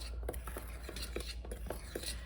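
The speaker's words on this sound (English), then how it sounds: "So you're gonna mix that up in a bowl, just mix it up well." Dry baking soda, salt and cinnamon being mixed in a bowl, giving soft, evenly spaced scrapes and light clinks of utensil against the bowl, steady and close over a low background hum.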